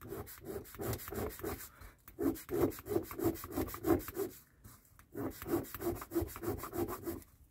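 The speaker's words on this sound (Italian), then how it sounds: "Prendete una lima, io ho già iniziato e fate questo lavoro qui, vedete?" A metal file rasps across the rim of a model car tyre, a Lancia Stratos HF, in quick, even back-and-forth strokes, close and fairly loud, with two short pauses between runs of strokes.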